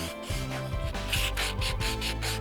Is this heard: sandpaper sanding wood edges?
yes